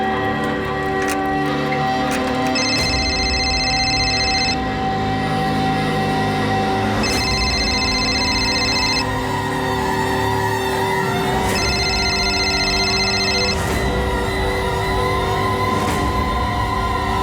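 A telephone rings in three separated bursts, each lasting a couple of seconds, over a constant low hum, with no one picking up.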